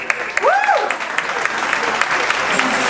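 An awards-show audience at the Golden Latin Awards applauds, steady clapping under a rising and falling whoop or cheer early on, with some voices mixed in.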